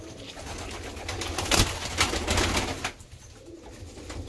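A group of big Bağdadı pigeons coos in a loft, a close, rolling chorus of throaty calls with a brief louder flutter midway, fading slightly toward the end.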